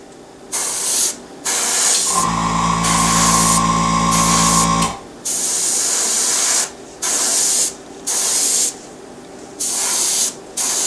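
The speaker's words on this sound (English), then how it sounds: "The IWATA Eclipse Airbrush." Iwata Eclipse airbrush spraying paint in close, loud hissing bursts that start and stop repeatedly, with a steady tonal compressor hum joining in for a few seconds partway through.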